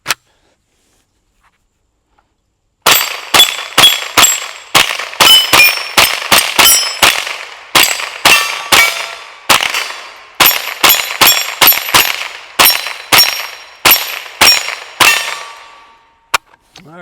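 Rapid semi-automatic shots from a Ruger 10/22 .22 rifle fitted with a ZK22 bullpup stock, a quick string of sharp cracks fired in bursts with short pauses, loud and close, after a few seconds of silence.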